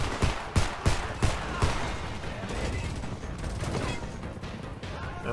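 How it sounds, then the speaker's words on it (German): Pistol shots in the video game Homefront ring out as a rapid burst of sharp, loud reports in the first second and a half, then trail into a dense, rumbling din of game noise. "Schieß erstmal mit der Pistole."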